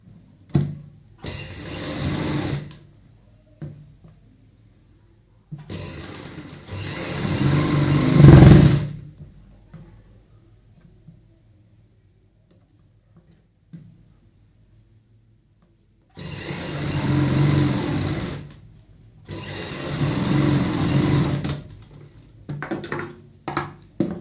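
A sewing machine stitches seams on a stylish party-wear frock for a six-year-old girl. The motor runs in four separate bursts of a few seconds each, loud and close, with quiet pauses between them and no talking.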